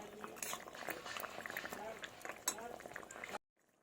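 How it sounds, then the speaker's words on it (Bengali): Fried fish pieces simmering in okra and potato curry gravy, a soft bubbling and low sizzle with light clinks of a utensil against the pot, ending abruptly in near silence. "এবার আমি দিয়ে দিব মাছ ভেজে রাখা মাছ দিয়ে দিলাম এবার কিছুক্ষণ এভাবেই হতে দেব এই রসটাকে আমি আর একটু কষিয়ে নেবো"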